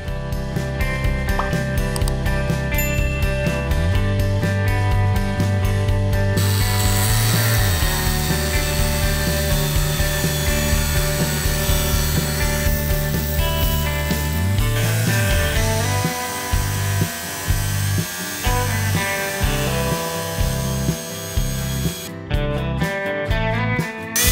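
A power tool whines loudly while cutting a 160mm diameter PVC pipe, a sustained tonal motor drone with shifting pitch as the blade bites, followed by stuttering bursts toward the end, close and continuous without speech.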